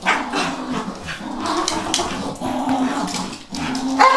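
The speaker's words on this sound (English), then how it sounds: "That is our other dog barking in the background." A dachshund barks and whines repeatedly from behind a cage at moderate distance, the calls coming in uneven bursts over a steady background hum.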